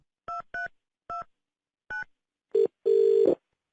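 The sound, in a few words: telephone being dialed for a prank call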